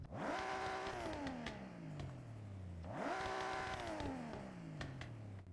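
A 1,150 hp engine swap in Forza Horizon 6 revs hard twice, each rise falling away into crackling, popping backfire, loud and close with no voices.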